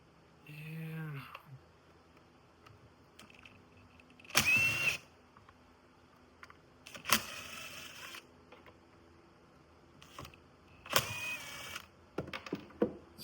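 A starter cranks a small carbureted engine that is leaking fuel from the carb, with three short separate bursts spread over a quiet stretch and a brief voice near the start.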